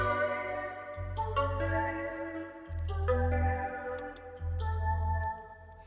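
A beat built in Ableton Live 11, run through a compressor and Thermal chorus saturation, plays layered synth chords over a deep bass that pulses in long blocks, with the harmony shifting roughly every second and a half.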